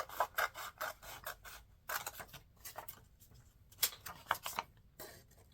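Scissors snip through a piece of paper while trimming an upcycled-paper corner bookmark: a series of close, crisp cutting strokes in short bursts with brief pauses, and no talking.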